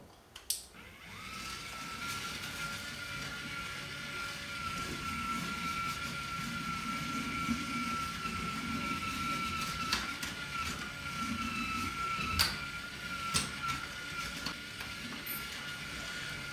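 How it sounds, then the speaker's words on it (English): A steady, whirring power-sander drone runs without pause while the inside edge of a sculpture wheel is sanded, with a few brief knocks and clicks over a constant hum and no talking. "So I'm going to take some time to sand this wheel down a little bit."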